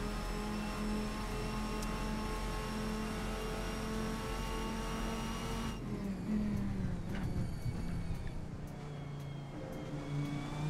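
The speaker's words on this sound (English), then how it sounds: "How good does this car sound? Listen to this." A racing car in the Assetto Corsa game drones with a steady, sustained engine tone, holding a constant hum before shifting pitch partway through as it accelerates, continuous and fairly close with no talk over it.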